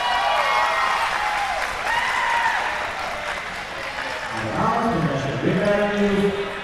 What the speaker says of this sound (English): The crowd really, really roaring today